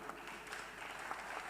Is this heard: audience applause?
yes